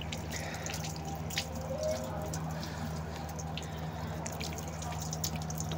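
Cold water runs from a tap into a container for pet pigeons, a faint steady trickle with light drips over a low background hum.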